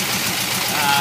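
A car engine with a mild cam and a freshly rebuilt Stromberg carburetor idles steadily at close range, with a constant low rumble and no clear talk over it.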